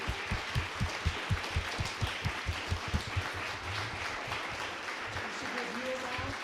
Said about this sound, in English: you can go ahead and give them a round of applause